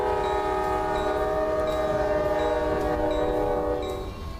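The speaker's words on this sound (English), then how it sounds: "Let's listen to the horn." A pair of FURX GP35 locomotives in the Rails Unlimited train game sound a long, loud, sustained multi-tone horn chord that holds steady for several seconds before easing off slightly, with no voices.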